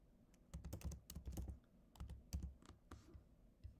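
Fingers tap on a computer keyboard in quick irregular bursts of crisp clicks, close and fairly quiet, with short pauses between runs of keystrokes.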